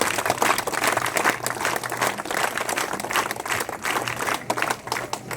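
A crowd at a charitable trust event claps steadily and fairly close for about five seconds, a dense patter of many hands that holds without a clear end.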